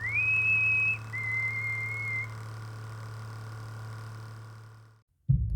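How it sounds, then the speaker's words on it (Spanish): A thin, sustained whistle sounds twice, one tone then a slightly lower one, over a low steady hum before cutting to silence. "a lo lejos se escuchó un silbido"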